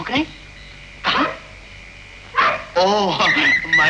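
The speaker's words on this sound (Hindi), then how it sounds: "कुत्ते कब से भौंक रहे हैं? कुत्ते भौंक रहे हैं?" A dog barks in a few short, separated bursts in a 1955 Hindi film scene, with someone speaking over and between them toward the end.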